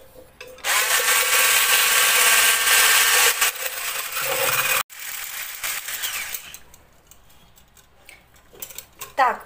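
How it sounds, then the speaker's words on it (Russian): An electric blender whips two eggs for a cottage cheese strawberry pie filling, giving a loud, steady close-up whir for about four seconds. It then cuts out, leaving quieter kitchen sounds and a few knocks. "Сначала я собью 2 яйца блендером,"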